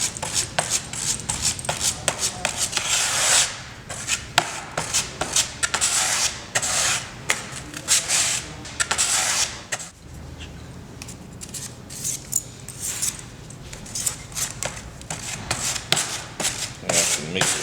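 Bondo body filler being mixed with hardener on a hard surface, repeated scraping and smearing strokes in quick bursts, close and fairly quiet, with a brief softer lull midway.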